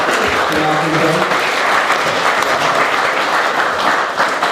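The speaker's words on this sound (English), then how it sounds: "Please, a big round of applause for our sentinel." Audience applause at an evening museum event in Tairāwhiti, steady dense clapping filling the whole stretch at close range, with a few voices mixed in early on.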